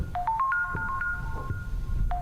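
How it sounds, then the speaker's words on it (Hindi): A phone ringtone sounds inside the house in the Granny video game: a quick run of rising electronic notes, sustained briefly, then starting over, loud and clear above a low background rumble. "कहीं पर कोई फोन बजने का साउंड आ रहा है।"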